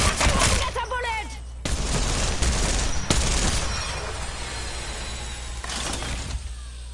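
Rapid, sustained fire from the Sheila gun in Apex Legends: dense, loud bursts of shots that run almost continuously, with brief breaks and a quieter tail near the end.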